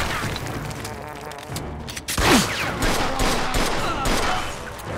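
Rapid bursts of gunfire from the Mafia II video game, dense overlapping shots and echoing booms, loud and continuous with a sharper volley partway through.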